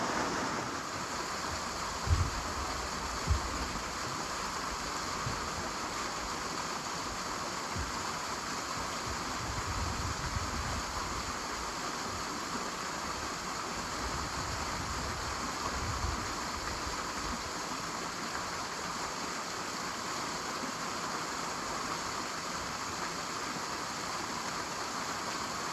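A hidden waterfall along a hiking trail in Virginia gives a steady, even rushing roar that fills the whole stretch with no break, with a low rumble beneath and no voices.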